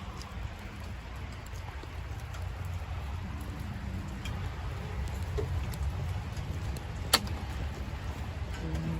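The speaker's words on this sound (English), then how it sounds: "Get out of the rain, baby." Steady rain falls outdoors near a shed, a continuous soft patter and hiss with a single brief sharp tap partway through, no voices.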